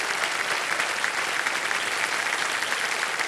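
Enthusiastic studio audience claps for the contestants on Kaun Banega Crorepati, a thick continuous roar of many hands close and loud, steady throughout with no speech.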